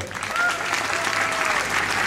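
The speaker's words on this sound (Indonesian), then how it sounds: "Tepuk tangan untuk Tuan Cemadu." A youth camp congregation claps for an honored guest, a brief, even roar of many hands with a faint voice underneath.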